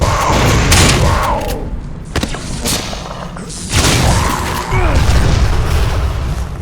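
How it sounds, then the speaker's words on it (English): Scripted artillery shelling in the first-person game Vivisector: Beast Within, with heavy booming blasts and rumbling impacts landing in a few separate bursts across the clip, loud and close, with no talk over them. "Also, we're being shelled here. I thought it was maybe the gorillas, but I think it's just scripted explosions."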